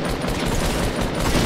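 Fortnite gunfire crackles continuously throughout a short stretch of dense, steady shooting at close range, with no pauses between bursts.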